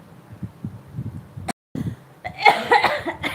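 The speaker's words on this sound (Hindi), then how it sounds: "यार खांसी नहीं जा रही मेरी" Someone coughs several times close to the microphone, a burst of harsh coughs following a brief dropout after softer throaty sounds.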